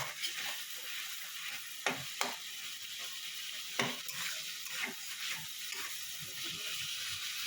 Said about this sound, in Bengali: এবার এটাকে একটু ভালো করে নাড়িয়ে নেবেন। এইভাবে একটু ভালো করে কষে নেবেন।